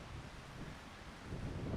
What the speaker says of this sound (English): It's like 75 degrees, but it's just windy.